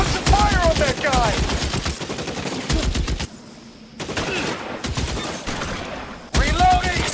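Rapid, dense bursts of automatic and single-shot gunfire from an LA Noire shootout hammer away almost nonstop, pausing briefly in the middle, with voices mixed in.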